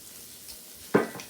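Onions and garlic sizzle briefly in a hot pan, a quiet hiss rising into a sharp, close burst of frying near the end.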